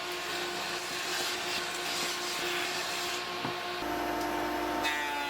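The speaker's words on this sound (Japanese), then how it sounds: "今度は表面を自動カンナという機械を使ってきれいに仕上げていきます。" A thickness planer (automatic planer) smooths wooden boards in a workshop, its motor whining and cutterhead droning steadily and loudly throughout.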